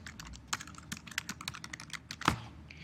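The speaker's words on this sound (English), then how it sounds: "I can start typing in text right here." Someone types text on a computer keyboard in quick irregular bursts of close, crisp key clicks with one louder keystroke near the end, no talking.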